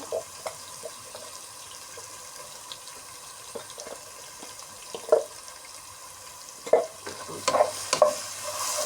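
Ginger-garlic paste with turmeric and red chili powder being stirred as it fries in a pan, a steady soft sizzle under scattered scraping clinks of the spoon, a few louder taps near the end.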